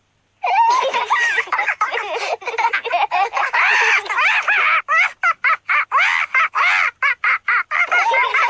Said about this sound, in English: Peppa and George are really enjoying playing with Polly Parrot.